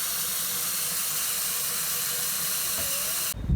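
Steady rushing hiss of water pouring and filling an RV gray water tank, continuous and close, ending abruptly with a few low thumps.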